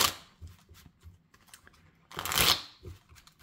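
Small Rider-Waite tarot deck being shuffled by hand, with soft scattered card flicks and one louder papery riffle burst midway, close and quiet with no talking.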